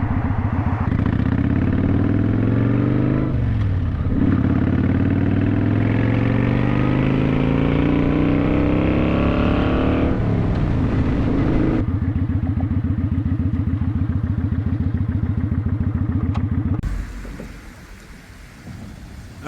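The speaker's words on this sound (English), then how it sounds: "this wind is so loud, I barely can hear the bike when I'm at about 40 miles an hour" Motorcycle ridden at about 40 mph without a windshield: loud, roaring wind buffeting over a droning engine that rises in pitch as it accelerates, then shifts and settles before fading near the end.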